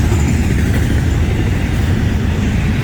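A Florida East Coast Railway freight train carrying auto racks rolls past close by, giving a steady, loud rumble and rail roar with no break and no voices.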